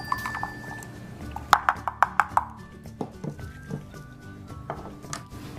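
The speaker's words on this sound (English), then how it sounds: "Whisk it in there" Egg yolk and nuts are whisked in a bowl. The whisk taps and clinks against the bowl in a quick run of about five sharp metallic strikes, followed by softer scattered knocks and stirring noises.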